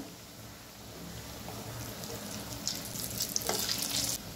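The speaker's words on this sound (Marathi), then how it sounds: "मीडियम गॅसवर लालसर होईपर्यंत वड्या शॅलो फ्राय करून घेऊया।" Spinach and mixed lentil vadis shallow frying in oil over a medium flame, a soft steady sizzle that grows slightly louder toward the end, quiet and without talk.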